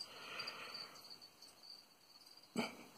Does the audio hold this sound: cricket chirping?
yes